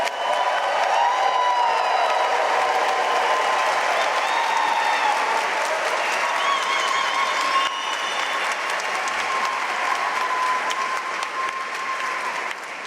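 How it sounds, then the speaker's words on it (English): A big graduation crowd at a Duke MBA and MSQM ceremony applauds its graduates with long, dense, steady clapping, joined by scattered cheers and whistles, sustained loudly across the hall. "a round of applause for every one of our graduates here."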